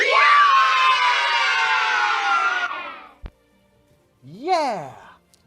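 A stock cheer sound effect of children yelling "yay" in unison plays as a game-win cue, a bright crowd shout lasting a few seconds, followed by a click and a single rising-and-falling whoop.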